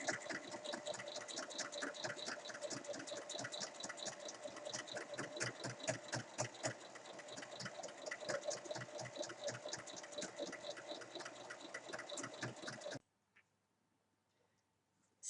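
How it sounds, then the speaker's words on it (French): A sewing machine runs a steady, continuous line of topstitching along the seam of a fabric makeup pouch for about thirteen seconds, close and even-paced, then stops abruptly into near silence. "je vais venir faire une surpiqûre tout le long ici"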